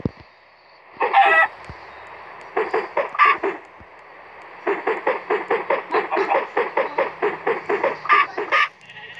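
Chickens in Minecraft Pocket Edition cluck in quick repeated bursts, a short pause between groups, then a long rapid run of clucks, fairly close.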